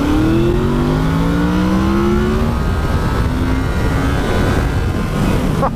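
A Yamaha MT-10 motorcycle engine revs while riding, its pitch climbing in repeated throttle pulls beneath a heavy, constant wind roar.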